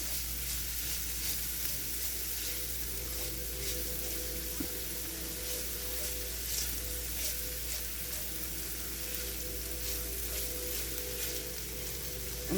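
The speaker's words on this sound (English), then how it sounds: "I'm just going to stir this up until the onions are translucent and tender" Purple onions sizzle and fry steadily in a pan, with occasional scrapes as they are stirred, a continuous close hiss throughout with no talking.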